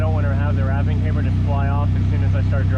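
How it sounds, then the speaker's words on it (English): Car engine droning steadily and loudly from inside the cabin while driving slowly, a constant low hum with a person talking over it throughout. "It's probably pretty loud with the engine right there."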